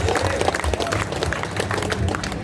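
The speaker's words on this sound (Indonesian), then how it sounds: "Tepuk tangan buat yang punya legalitas." Audience clapping at an indoor Ramadan community gathering, dense applause at moderate loudness lasting throughout with a murmur of crowd voices underneath.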